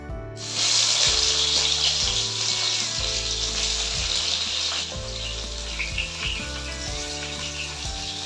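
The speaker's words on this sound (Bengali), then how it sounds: "এবার আমি বেগুনগুলো কড়াইতে দিয়ে দিলাম" Brinjal (eggplant) pieces coated in salt and turmeric hit hot oil in a wok and fry with a steady, close sizzle, loud at first and settling slightly, over a low rhythmic background hum.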